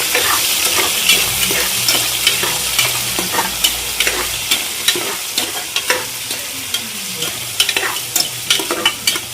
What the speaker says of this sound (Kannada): ಈರುಳ್ಳಿ ಹಾಕ್ಕೊಂಡಿದ್ದೀನಿ ಚೆನ್ನಾಗಿ ಫ್ರೈ ಮಾಡ್ತೀನಿ